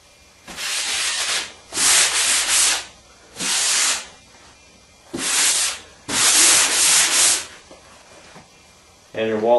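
A drywall-finished wall, converted from paneling, sanded by hand before painting, with five rasping strokes in bursts of one to two seconds separated by pauses, close and loud, and a brief voice at the very end.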